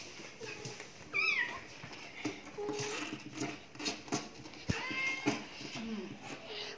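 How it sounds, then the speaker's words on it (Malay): A kitten stuck in a tight spot meows several times in high, wavering cries, close by and fairly loud, with excited voices talking over and between the calls. "anak kucing kejepit"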